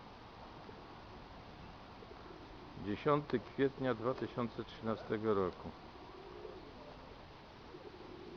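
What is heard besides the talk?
pigeons cooing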